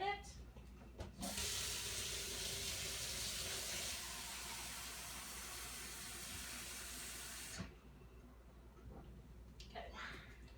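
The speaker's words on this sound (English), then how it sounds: "I'm going to take my smaller pan and put 2 cups of water in it." Tap water running into a small cooking pan in a home kitchen, a steady hiss of flow for several seconds before it shuts off abruptly, followed by faint handling sounds.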